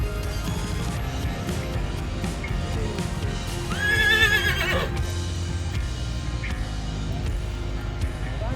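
Horses at a horse fair show ground in Anthiyur, Tamil Nadu, neigh loudly in a prominent whinny midway, over steady clip-clop of hooves and a busy outdoor crowd background.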